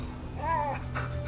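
Dog whimpering in the video game A Plague Tale: Innocence, a brief high, wavering whine rising over a steady low game ambience and music bed.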